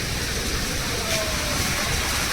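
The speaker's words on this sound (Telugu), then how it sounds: "చాలా బాగుంది వాటర్ ఫౌంటైన్" A water fountain at Mumbai's zoo splashes in a steady, broad hiss that fills the scene evenly from start to finish.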